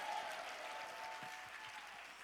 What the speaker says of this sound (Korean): 감사의 박수 올려드립시다